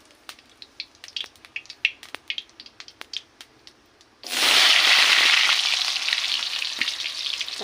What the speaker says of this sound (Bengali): দিয়ে আমি ইঁচড়ের আলুটা ভাজা বসিয়ে দেবো।